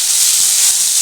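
Leaves dropped into a hot oiled pan for a Bengali-style mixed vegetable dish hiss and sizzle loudly and steadily throughout, a dense, close frying sound with no talk.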